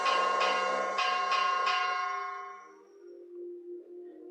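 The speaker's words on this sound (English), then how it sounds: "Ignore the bell." A bell rings during a guided breathing session, four bright struck tones in quick succession that ring out and fade into a low lingering hum, with no talking.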